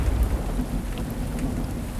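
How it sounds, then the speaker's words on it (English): A heavy rain and thunderstorm sound effect pours out as a dense, steady roar of rainfall. A deep rolling rumble of thunder sits underneath, loud and continuous throughout with no pauses. "heavy rains began to pour. Dark clouds covered the sky and lightning flashed."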